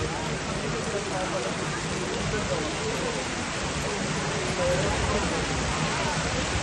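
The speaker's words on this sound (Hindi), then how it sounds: "बारिश इतनी ज़्यादा हो गई है कि सब भर चुका है" Heavy rain pours steadily, a dense, even hiss of water with no break throughout.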